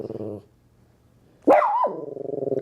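A senior dog gives a tense, growling bark: a short low rumble, a pause, then a sharp rising yelp that settles into a sustained, pulsing growl, close and fairly loud with no talk.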